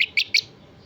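Young blackbird chicks, tame and well grown, give three quick high chirps in close succession, loud and near, then fall quiet.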